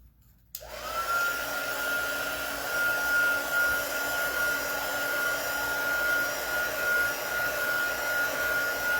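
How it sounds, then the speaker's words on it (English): A heat tool drying a mixed media craft board starts with a click and then blows a loud, steady, whirring hum that runs without a break. "So I'm going to take my heat tool and I'm just going to start drying this."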